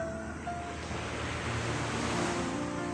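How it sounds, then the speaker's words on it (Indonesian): Ocean waves wash steadily against the shore while wind gusts across the microphone, a continuous, fairly loud roar of surf and wind with no voices. "dengan desiran angin yang ada pada saat ini dan desiran ombak yang ada"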